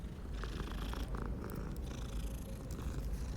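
A cat purrs steadily while being petted in Hogwarts Legacy, a low continuous rumbling purr that runs close and unbroken throughout, with faint game ambience above it.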